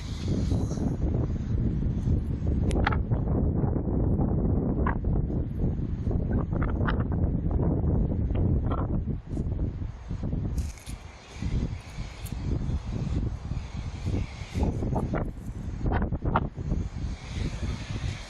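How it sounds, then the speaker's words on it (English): Strong gusting wind buffets the microphone on an exposed seaside cliff, a loud continuous roar that dips briefly, then returns in uneven bursts with rustling. "It's too windy."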